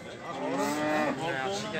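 A young bull calf lows once at an Osh cattle market, a short, fairly close moo that holds for under two seconds.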